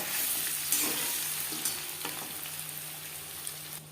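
Eggs fry in a pan for an egg curry, a steady close sizzle and crackle with a few light stirs and clinks of a utensil, and no voices.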